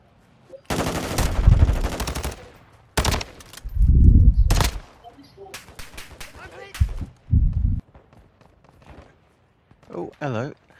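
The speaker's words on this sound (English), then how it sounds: "He's shooting me with bloody incendiary ammo" Incendiary-ammo gunfire in Call of Duty DMZ: loud, rapid automatic bursts, a long volley followed by a short one, then people talking and scattered quieter game sounds.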